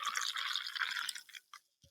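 A drink poured into a cup: a short, close, steady splash of liquid lasting over a second, tapering into a few drips, with no talking.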